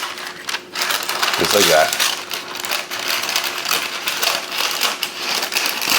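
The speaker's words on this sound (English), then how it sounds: "And now I'm going to start to cut." A knife slicing through a smoked meatloaf on a tray gives a short, close crunchy scrape near the start, followed by faint scraping while a person talks.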